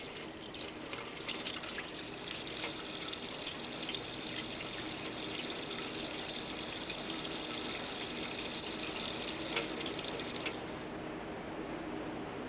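Water runs steadily from a faucet during hand washing in a food factory setting, a continuous hissing stream with faint splashing that eases slightly near the end.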